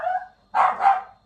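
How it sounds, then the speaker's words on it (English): A puppy gives a few short, fairly close barks alone: a brief yelp, a pause, then two quick barks. "I need to go comfort my puppy"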